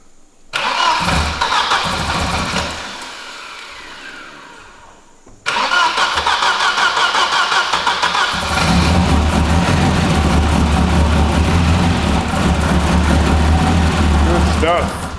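A rebuilt car engine cranks briefly, dies, then catches and settles into a loud, steady idle that fills the rest of the recording, with a person talking over it.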